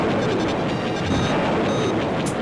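Proton torpedoes fire in Star Wars Arcade on the Sega 32X, a dense continuous roar of blasts and rumbling explosions, loud and steady throughout with no gaps, heard without talk.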